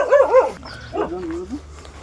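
Farm dogs barking nearby on a rural property: a quick pair of loud barks, then a softer whining yelp, with no talk over them.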